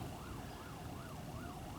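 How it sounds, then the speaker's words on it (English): Emergency vehicle sirens wail in rising and falling sweeps during a storm, distant and faint over a low background rumble. "I hear all kinds of sirens."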